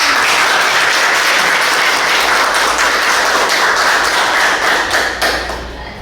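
Children in a primary school classroom clap their hands together in a loud, dense burst of rapid clapping that carries on for several seconds before tapering off.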